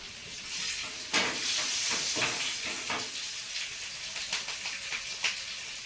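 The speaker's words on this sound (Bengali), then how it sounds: "আর এই তেলের মধ্যে এখন দেবো একটু কালো জিরে আর দেবো কাঁচা লঙ্কা" Nigella seeds and green chili sizzling in hot oil, a steady loud crackling hiss with frequent sharp pops and spits throughout, no voices.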